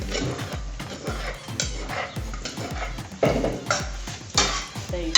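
Okra soup is stirred in a pot with a spoon, making a rhythmic run of close scrapes and knocks against the metal, sharper and louder toward the end.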